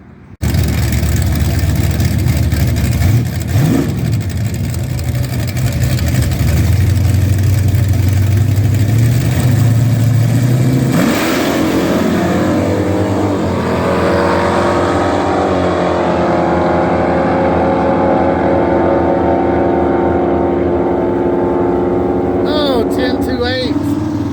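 A 1980 Trans Am on nitrous makes a drag racing pass at a bracket race. It starts as a loud, steady engine drone that climbs in pitch with each gear change and holds strong throughout, with speech mixed in at points.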